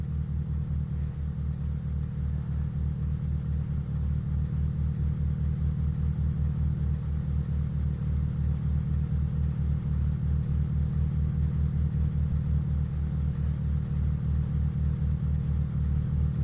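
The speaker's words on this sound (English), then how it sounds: "we're going to take out our Skyline for a test drive" A Nissan Skyline with a Titan Power Core engine in the video game Underground Garage runs a test drive, giving a steady, loud, low engine drone with an even pulsing rumble that holds constant the whole time.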